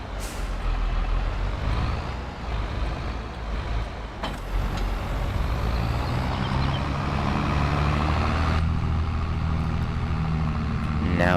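A big tractor engine in a video game rumbles steadily and loudly at close range, with a hissing air-brake-like release partway through and no talking.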